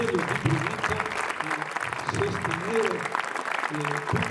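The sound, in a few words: audience applause at a book presentation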